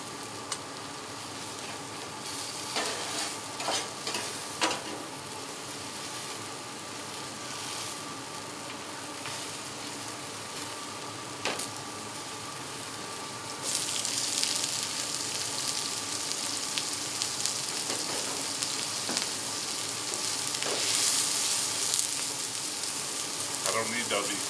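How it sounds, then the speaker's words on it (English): Mushrooms and garlic frying on a flat griddle top beside a porterhouse and ribeye, giving a continuous close sizzle that grows louder partway through, with scattered utensil taps and a voice talking at times. "let's go ahead and cook up some mushrooms. Right in with that garlic"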